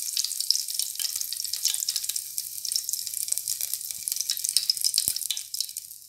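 Curry leaves and asafoetida hitting hot oil with cumin, a bright, crackling sizzle that spits steadily for several seconds before easing slightly, close and clear with no voices.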